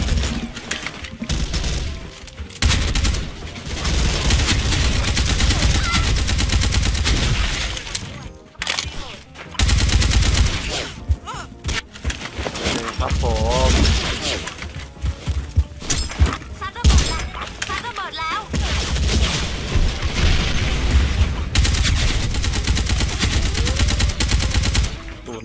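Galil rifle fired in Special Force 2, the gameplay full of dense, loud automatic bursts with short pauses, mixed with other gunfire and impacts, while someone talks over the shooting.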